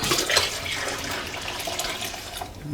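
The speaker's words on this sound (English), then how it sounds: "I'm going to add a gallon of water." A gallon of water pours steadily into a pot of grated homemade lye and lard soap, a continuous close rushing splash that holds level throughout.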